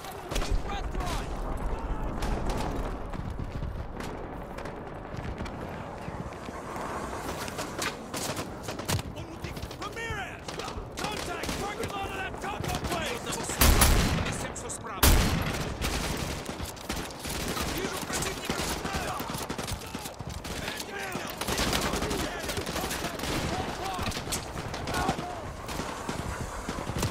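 Heavy gunfire from the Call of Duty Modern Warfare Remastered campaign on PS5 rattles in dense bursts throughout, with a louder blast midway and voices shouting over the battle.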